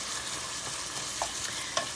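Ground beef cooks on high heat in a pan, a constant close sizzle with soft stirring sounds and a couple of brief clinks, and no voices.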